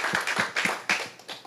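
Applause at a gathering of civil service officials: a short run of about half a dozen evenly spaced claps, fairly close and moderately loud.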